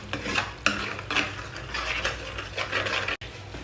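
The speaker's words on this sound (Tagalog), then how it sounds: "Then haluin nyo lang guys." Spoon stirring tomato beer garlic butter shrimp sauce in a pan, with repeated scraping and clinking strokes over a soft background sizzle, close and fairly loud, no talking.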